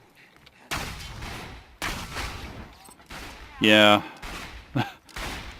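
Sniper rifle shots from a Maliwan Snider in the Borderlands video game, fired from the hip: a few loud, sharp bursts spread across the clip, with a brief spoken word in between.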